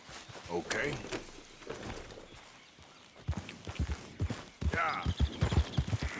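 Horse hooves clip-clop in Red Dead Redemption 2, soft at first and then a quicker run of close, fairly loud hoofbeats, with a voice talking at the start.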